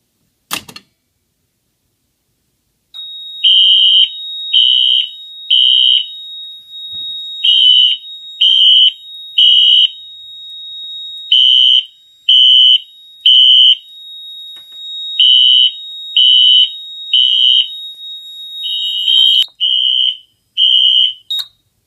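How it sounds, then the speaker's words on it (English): A re-armed fire alarm system sounds after a sharp click: loud repeating electronic horn blasts in steady bursts over a continuous high whine. The rhythm stays regular to the end, with no voices. "And now we'll re-alarm the system with the chevron."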